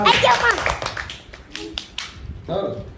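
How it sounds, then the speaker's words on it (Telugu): Children clap in a school classroom during a counting lesson, short bursts of quick hand claps mixed with a voice and an adult speaking. "చప్పలు కొట్టండి"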